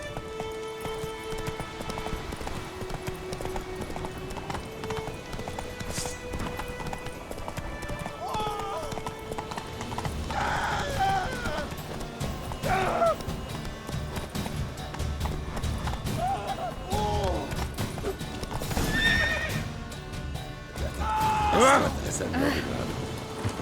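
Roach the horse gallops in The Witcher 3, hoofbeats clopping beneath game music, with a few neighs and whinnies rising over the ongoing rhythm; a voice speaks at points.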